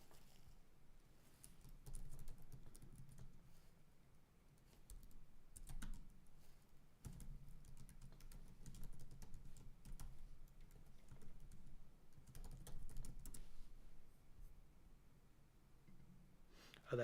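Quiet computer keyboard typing, with irregular bursts of soft key clicks and short pauses running throughout, close but low in level, with no one talking.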